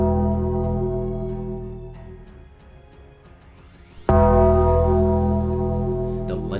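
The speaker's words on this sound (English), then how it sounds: "legendary gong that for decades has struck fear across the WWE rang out" A single deep gong strikes loud and close in a wrestling arena, the Undertaker's entrance cue, ringing out with a long sustained tone over a fading crowd hum and sustained music.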